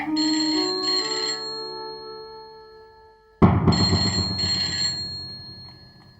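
A telephone rings in a Hindi TV serial scene: two bright electronic ring bursts, a pause, then two more, loud and close with no talk over them.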